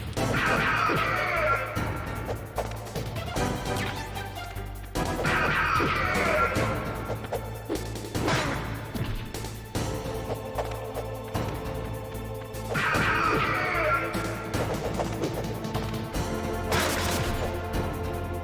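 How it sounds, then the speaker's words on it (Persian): Glass shatters during a fight in the video game Metal Gear Solid, a loud crash repeating several times over a busy mix of game music and effects. "شیشه شکست"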